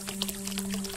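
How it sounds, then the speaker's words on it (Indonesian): Water of a small, pretty river pours and splashes gently close by, with soft trickling bursts over a steady low tone underneath. "Tak jauh dari sana ada sebuah sungai kecil indah."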